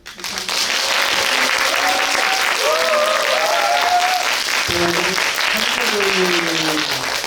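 Sustained loud applause from a large film festival audience fills the clip, with a voice speaking over the clapping partway through.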